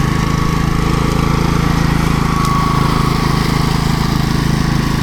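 New ride-on lawn mower engine running steadily nearby, a loud, continuous, even drone with a low rhythmic pulse and no break.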